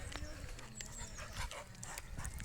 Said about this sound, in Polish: i mamy małe spotkanie z psami